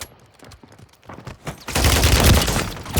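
Gunfire in Warzone: a few scattered shots at first, then a loud, sustained burst of automatic fire with heavy booming low end, no talking.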